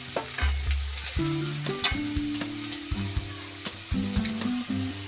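A mixture of jaggery, coconut and cardamom sizzles steadily in a hot pan for a sweet coconut vada, with a constant hiss and occasional light stirring scrapes, close up and with no talking.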